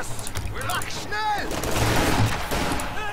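In the Company of Heroes 2 video game, short bursts of machine gun fire and other battle noise rattle through the game mix, with someone talking over the action.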